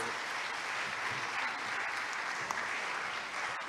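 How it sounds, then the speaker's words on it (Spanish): An audience at the opening of an international culture symposium applauds, a broad, steady patter of many hands clapping, moderately distant and sustained to the end. "Un fuerte aplauso por acompañarnos."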